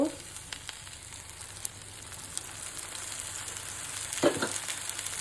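Lentil fritters, dal bara, fry in oil in a pan with a soft, steady crackling sizzle and a few faint clicks, growing slightly busier toward the end, with no voices.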